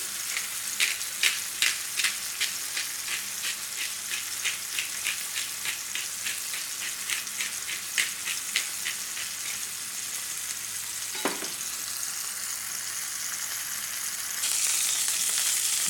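A burger patty for a mushroom and Swiss burger sizzles in a pan with a steady frying hiss, punctuated by a regular series of crackling pops that fade out, then a louder surge of sizzle near the end.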